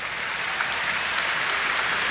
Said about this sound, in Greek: Και τα χειροκροτήματα στον Ναβάρο που ανταποδίδει